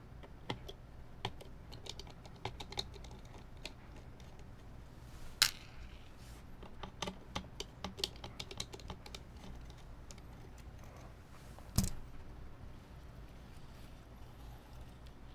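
Steady typing on an HHKB Pro Hybrid keyboard fitted with JTK keycaps, a close run of clacky keystrokes with uneven rhythm and a couple of sharper, louder hits standing out.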